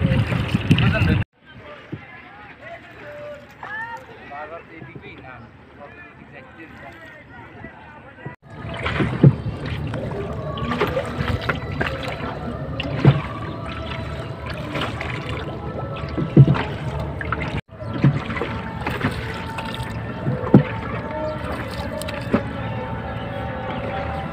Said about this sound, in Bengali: যেদিকে আমরা বাইতেছি নৌকা ওদিকে এলো ভাটা, তাহলে ভাটার টানে যাইতেছি